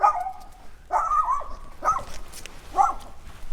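A pinscher dog barks and yips in four sharp, separate bursts, fairly close but not loud, in open surroundings in Sardinia.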